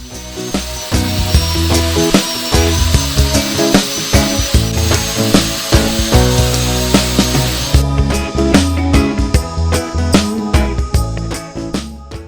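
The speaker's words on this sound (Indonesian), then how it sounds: "kita gunakan amplas gerinda untuk mengikis dan membentuk setengah lingkarannya sesuai gambarnya" An angle grinder with a sanding disc shapes a half-circle into a plywood part for a folding shooting chair, a continuous loud abrasive grinding with repeated rhythmic surges throughout, no voices.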